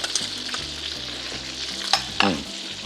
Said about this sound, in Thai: ใส่น้ำยำไว้ก่อน แล้วเคล้ารวมกันไว้งี้